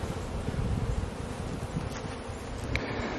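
Honey bees buzz at an open hive during a honey harvest, a dense close swarm drone that holds steady throughout, with a few individual bees flying near and no voices.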